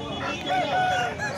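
A rooster crows once at a busy chicken market, a drawn-out call over the murmur of the crowd and other fowl.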